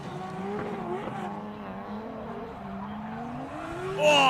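Drift cars at a state-series competition round, engines revving and swooping in pitch as tires squeal through a run, with a sharper burst of tire noise at the end.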